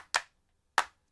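Two crisp, dry handclaps from a music mix, clean with no distortion, spaced about two-thirds of a second apart in silence.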